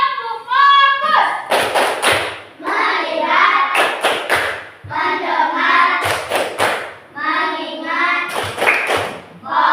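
A classroom rhythmic focus clap, tepuk fokus, rings out in sharp, loud group claps in a steady pattern, with children chanting in unison between the beats.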